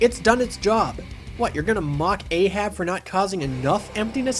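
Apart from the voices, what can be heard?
No everyday noise stands out behind the speech.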